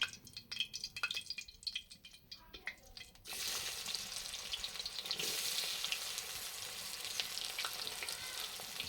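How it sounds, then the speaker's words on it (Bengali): Onions fry in mustard oil with dried red chillies in a hot kadai. A few scattered clinks and stirring sounds come first, then a loud, continuous sizzle breaks out and carries on steadily to the end. "প্রথমে পেঁয়াজগুলিকে ভেজে নেব।"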